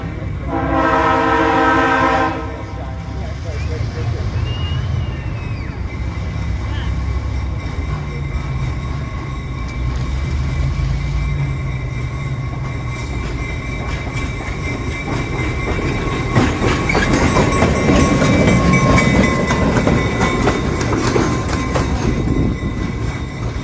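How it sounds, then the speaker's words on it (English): An O gauge model SW7 diesel switcher locomotive, number 8905, runs along a layout, its horn sounding near the start over a steady rolling rumble and clatter of wheels that swells louder toward the end. "I got that locomotive in action on video, so take a look."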